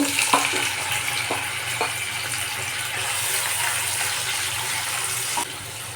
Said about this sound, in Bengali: চিংড়ি মাছটা এভাবে সুন্দর করে ভেজে নিতে হবে